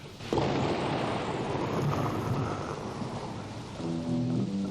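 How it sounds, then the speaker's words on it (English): Rain and thunder sound effect from the opening of a song: steady heavy rainfall with a deep rumbling thunder roll, joined near the end by soft electric piano notes. "We got to put in some rain and thunder."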